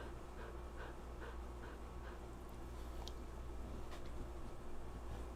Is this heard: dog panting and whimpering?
yes